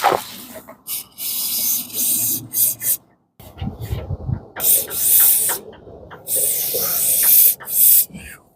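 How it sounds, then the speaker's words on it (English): WD-40 sprayed in several sharp bursts onto the door latch of a 2000 Chevy Silverado truck, loud close hissing spurts with brief pauses between them and a short gap midway. "Sure, we're just gonna spray it all."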